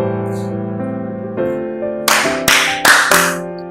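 Sharp hand claps in a children's counting game, a few crisp separate claps in quick succession over a sustained musical tone, with no talking.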